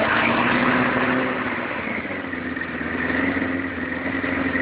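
A cold Suzuki Gixxer motorcycle engine idling steadily, a continuous close, even buzzing drone with no talk over it.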